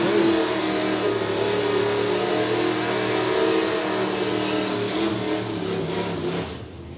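A Mercedes car races a dragster down a drag strip, engines roaring loud and sustained from the start, the drone holding steady before easing off near the end.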